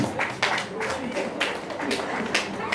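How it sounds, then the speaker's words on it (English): A church congregation claps in loose rhythmic bursts, moderately close, mixed with scattered voices and a little talk over the top. "Clap for Jesus, somebody"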